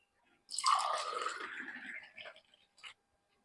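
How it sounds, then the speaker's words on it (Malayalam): Watermelon lime juice pours into a glass in a home kitchen: one wet, gurgling stream for about two seconds, tapering off into a few last drips, close and clear against silence. "ഇനി നമുക്കിത് ഒരു ഗ്ലാസ്സിലേക്ക് ഒഴിക്കാം"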